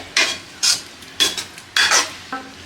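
Salt stirred into soybean chilli gravy in a pan, five distinct scraping spoon strokes in a steady rhythm, close and clear, with no voices.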